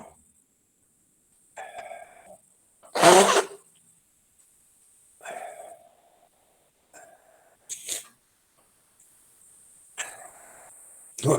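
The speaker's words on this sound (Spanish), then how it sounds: "un segundito que voy a toser" A person with an allergy coughs several times in separate bursts, one much louder and harsher than the rest, between quiet pauses in a room.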